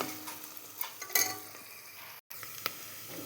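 Onion and ginger paste sizzles in hot oil for a mutton curry, a quiet, steady frying hiss with soft stirring clicks and a brief gap.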